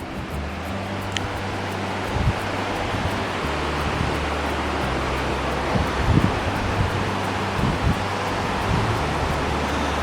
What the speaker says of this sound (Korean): 물소리가 너무 크게 들려서 고민이신가요?